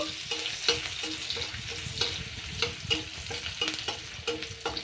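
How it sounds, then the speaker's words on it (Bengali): Chopped garlic fries in oil with a bright continuous sizzle, punctuated by a rhythmic spatula scraping about twice a second. The pan is close and loud, and no voices are heard. "রসুনটাকে একটু হালকা লাল লাল করে ভেজে নেব"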